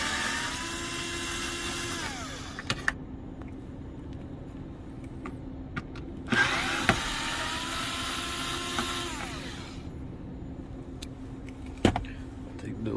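Two bursts of motorized whirring, each winding down at the end, as T15 Torx screws are driven out of a 2010-2019 Dodge Ram center console, with quiet gaps and faint clicks between them.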